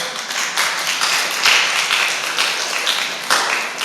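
Applause rises from a church audience at a Christian trivia night: a dense, steady wash of many hands clapping, fairly loud and close, with no speech over it.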